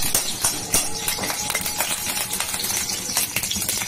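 Ghee spattering in a hot pan, giving sharp, irregular pops and crackles, some louder snaps standing out, close and fairly loud with no talking.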